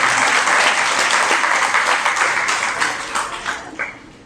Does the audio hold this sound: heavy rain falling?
no